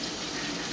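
Tap water runs steadily over cooked beans being rinsed in a sink, a close, even rush with no pauses and no talk.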